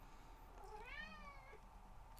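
A cat gives one clear, drawn-out meow, asking to be let out, heard at moderate distance over a low, steady background hum with no voices.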